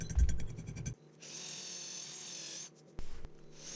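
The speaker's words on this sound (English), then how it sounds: "now I'm drilling and tapping them" Power drill boring and tapping holes for a leg vise mounting plate on a Roubo workbench, with short bursts of rough grinding, a long steady whirring run and another brief burst near the end.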